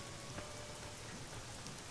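Continuous rain from the Fallout New Vegas weather effects, with the Nevada Skies mod, gives an even, close hiss of drops with no speech.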